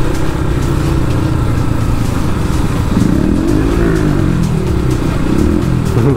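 Outdoors, a KTM or Yamaha FZ motorcycle fitted with a loud aftermarket exhaust keeps up a constant, close, heavy engine roar with a couple of rising revs, and no talking.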